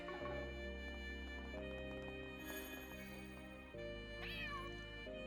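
Game music plays steadily in The Legend of Heroes: Trails Through Daybreak 2 while a brief cartoonish cat meow rises and falls near the end.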